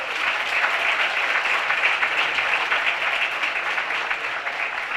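A crowd at an awards ceremony honoring women trailblazers applauds the honorees, dense continuous clapping that stays even and loud throughout.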